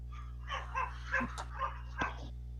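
A Chihuahua gives a run of small, yappy barks and whimpering yips, about six short bursts spaced unevenly, faint over a steady electrical hum.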